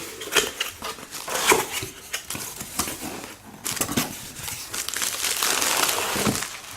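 A UPS shipping package holding a HyperMac external MacBook battery is torn open up close, with loud crinkling and crumpling of packing material, tape ripping and rustling handling noises in uneven bursts.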